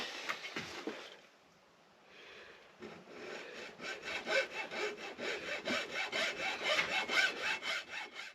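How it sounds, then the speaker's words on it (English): Hand hacksaw cutting through polyurethane suspension bushings, a short rasping start, a pause, then steady back-and-forth strokes building into a rhythmic scraping, close and fairly quiet. "So I'm going to hacksaw these up and see if I can get this to work."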